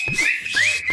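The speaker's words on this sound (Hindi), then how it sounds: "सीटी बजाओ।" A whistle shrills in close, loud, wavering blasts, rising and falling in pitch over about a second in a comedy scene, with a few faint thumps underneath.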